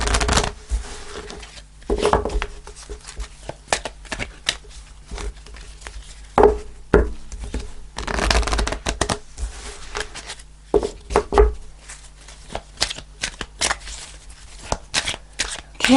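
Tarot cards are shuffled by hand in quick, irregular bursts of papery riffling and soft slaps, close and alone, with brief pauses between runs.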